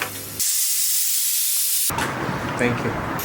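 Pressure cooker of boiled lentils releasing steam with a loud, steady hiss that lasts about a second and a half, then cuts off into kitchen clatter and noise.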